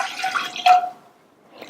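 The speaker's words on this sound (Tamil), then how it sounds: "எடுத்து வச்ச பாலை இந்த பாத்திரத்துல சேர்க்கிறேன்." Milk poured into a cooking vessel for sago payasam, a short close liquid splash and trickle that peaks briefly, then fades into quiet with a faint drip at the end.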